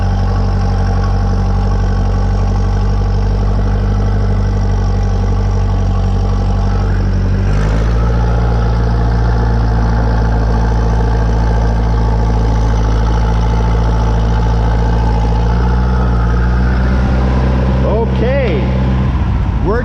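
A tractor engine rumbles loudly and steadily while backing down a small snowy driveway, with a deep low drone and a brief shift in tone partway through, continuous from start to finish.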